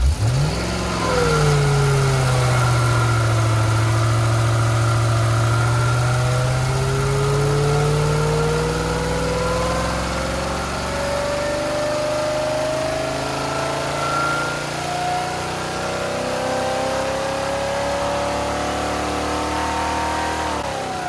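A rebuilt 3.5-litre Rover V8 pulls on a dyno, engine note climbing steadily through the revs in one long, loud sweep, then holding a sustained roar with no talk.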